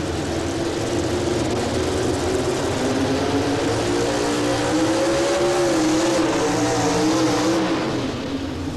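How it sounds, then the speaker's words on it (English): The Tinker Toy pulling machine revs hard at a tractor pull during the 1991 National Farm Machinery Show. A continuous, loud engine roar fills the whole stretch, with a slight swell in pitch partway through, and no talk. "the Tinker Toy machine right here as he gets ready to go to the line"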